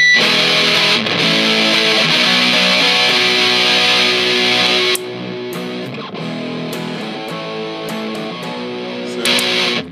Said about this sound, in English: if I put the distortion pedal on, get the bypass sound.